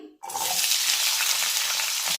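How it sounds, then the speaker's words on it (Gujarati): Potatoes hit hot oil and fry with a sudden loud, steady hiss that starts after a brief quiet moment and carries on close and unbroken. "તેલની અંદર બે થી ત્રણ મિનિટ આપણે બટેકાને સારી રીતે ફ્રાય કરી લઈશું"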